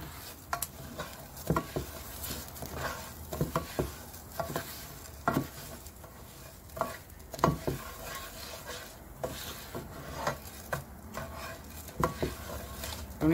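Moong dal frying in an electric pan, with a soft sizzle broken by repeated scraping and clinking stir strokes from a utensil against the pan, close and without talk.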